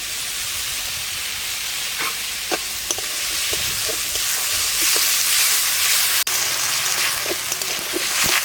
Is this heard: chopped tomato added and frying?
yes